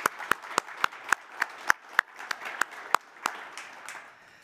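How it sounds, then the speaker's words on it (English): Sparse, distinct hand claps from a small audience at an agricultural innovation conference session, a dozen or so sharp claps in loose rhythm that thin out and fade by the end. "Can we give a round of applause for our sponsors?"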